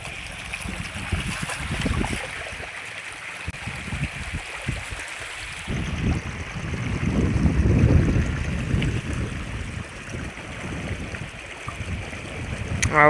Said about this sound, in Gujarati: પાણી ફૂલ જાય છે માર્ગમાંથી.